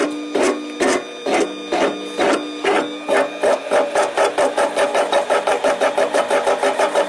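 A Harbor Freight 7x10 mini lathe takes a light cut on a 304 stainless steel bolt, giving a loud, steady rhythmic mechanical chatter of regular pulses that quicken and tighten partway through, with no talking.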